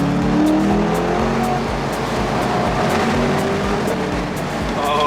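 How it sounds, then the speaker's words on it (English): A Chevrolet C8 Corvette with the LT2 V8 downshifts and pulls hard on a mountain road, a loud continuous engine roar with rising revs and repeated gear-change pulses, heard from inside the car. "Let's give it a go, guys. Downshift."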